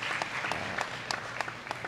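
Bowling fans at the 2017 QubicaAMF World Cup women's semifinals and final break into loud, sustained applause, with sharp individual claps standing out over the steady crowd patter throughout.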